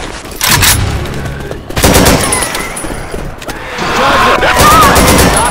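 Loud, close gunfire from the Left 4 Dead 2 Derailed level: sustained bursts of automatic shots and heavy booms, overlapping almost continuously.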